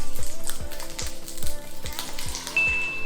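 Eggs hitting a hot pan with garlic on medium-high heat, loud close sizzling and spattering with rhythmic crackles that stay steady throughout, with no talking.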